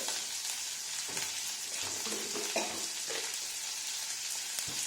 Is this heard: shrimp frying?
yes